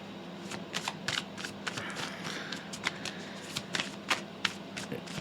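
Tarot cards are shuffled in a long run of quick riffling bursts and soft flicks, near and moderately quiet, with a low room hum underneath and no one speaking.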